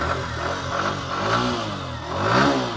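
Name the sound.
motorcycle engine revving with throttle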